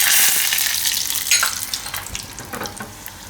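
Chana dal and urad dal dropped into hot oil with mustard seeds for a tempering: a bright, loud hiss that slowly eases into softer crackling and popping, close up, with no speech.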